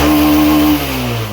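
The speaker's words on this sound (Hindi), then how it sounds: "मैं इसमें आपको एक्सीलेटर दे के भी दिखाता हूँ गाड़ी में।" A Honda SP125 BS6 motorcycle with a pickup problem revs loudly up close under throttle for under a second, then its pitch drops back toward idle.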